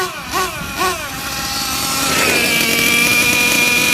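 Gas-powered Losi LST XXL2 RC truck with a two-speed transmission, its small two-stroke engine buzzing loudly, revving twice, then climbing into a steady high whine as it shifts into second gear.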